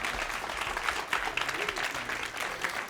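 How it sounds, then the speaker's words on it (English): Live magic show audience breaking into applause and cheers after a money-changing trick, steady clapping with scattered shouts, moderately loud and continuous. "that's usually where the crowd goes wild"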